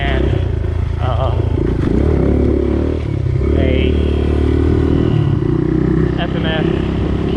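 A Suzuki DR200 trail motorcycle with an FMF Q4 exhaust and jetting kit revving, a loud steady engine drone with throttle swells and mechanical clatter, close to the rider.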